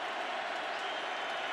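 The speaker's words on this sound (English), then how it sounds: "Crowd in full throat." A stadium crowd roars steadily during the fourth quarter of an NFL Wild Card playoff game, Jets at Colts in Indianapolis, in a dense sustained wash of cheering and applause.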